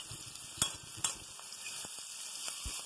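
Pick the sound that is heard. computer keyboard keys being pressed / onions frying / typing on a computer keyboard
onions frying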